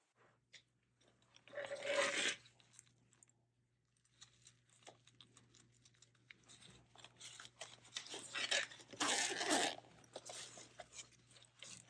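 Repaired backpack fabric, stiff from dried adhesive, crunches and crinkles as it is handled, with a loud burst early on and a longer stretch of crunching later, close up with quiet gaps between.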